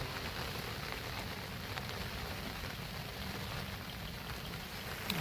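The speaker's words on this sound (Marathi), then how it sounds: "पावसाने जबरदस्त सुरुवात केलेली आहे" Heavy rain falls beside a flooded river, a dense, even hiss of drops with a low rushing undertone, steady and fairly faint throughout with no voices.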